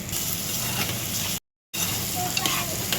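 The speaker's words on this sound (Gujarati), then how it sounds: "મરચાં મસાલો અથાણાનો મસાલો વઘારી લીધો" Pickle masala of chillies and pickle spice tempering in hot oil in a pan gives a loud, steady sizzle that breaks for a brief silent gap and then resumes.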